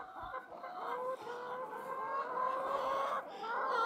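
Several hens cluck and murmur continuously nearby, a steady layered chorus of soft clucks without pauses.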